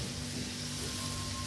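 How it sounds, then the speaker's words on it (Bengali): Potatoes fry at a bachelor-party barbecue, giving off a steady, close sizzling hiss with no voices, brief and unbroken. "আলুটা ভাজা হচ্ছে, লাল লাল আলু"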